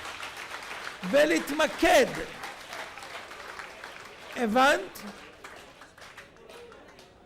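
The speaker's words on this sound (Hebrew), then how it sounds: "הם פשוט מאוד באנרציה של מחיאות הכפיים מהשיר על האסלאם" An audience at a rabbi's heated debate with an atheist couple keeps clapping on from a song about Islam; scattered applause lingers under someone talking close by, swelling twice with his phrases.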